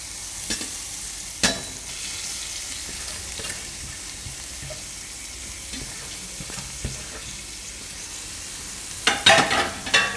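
Grated carrot fries in ghee for a winter kheer, a soft steady sizzle broken by scraping stirs, with a louder cluster of scrapes near the end.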